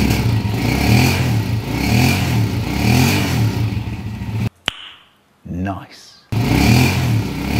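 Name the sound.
rock crusher machine engine running smoothly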